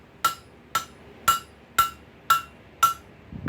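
Six evenly spaced ringing hammer blows strike hot metal on an anvil while a door knocker is forged, each sharp clang decaying quickly, close and loud with no talking.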